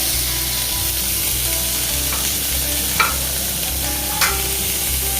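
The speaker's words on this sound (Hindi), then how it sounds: "इसमें पनीर पूरा फ्राई होगा" Paneer frying in oil in a kadhai for shahi egg curry, a constant close sizzle and bubbling with a couple of faint spatula clicks, no voices over it.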